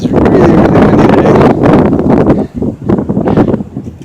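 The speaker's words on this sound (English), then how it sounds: "It is really windy today." Strong wind buffets the microphone on an exposed hillside near Tibbetts Knob, a loud continuous roar with gusty surges and a brief lull partway through.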